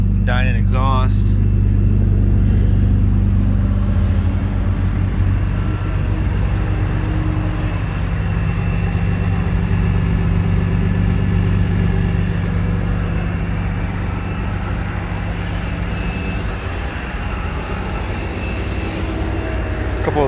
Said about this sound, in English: Dinan exhaust.